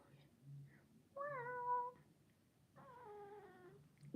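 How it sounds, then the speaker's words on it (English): A cat meows twice, two drawn-out calls separated by a short pause, fairly close against a quiet background. "Meow."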